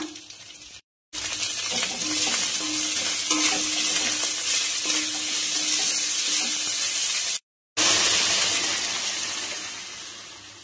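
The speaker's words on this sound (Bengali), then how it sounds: "ভালো করে ভেজে নেব।" Spices, bay leaf and chopped onion fry in a pan for Bengali masoor dal with hyacinth bean seeds, making a loud, continuous hissing sizzle that breaks off briefly twice and fades slightly at the end.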